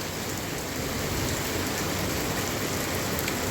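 Steady rain pouring down, a dense, even hiss of drops striking surfaces nearby that holds constant throughout without pause or voices.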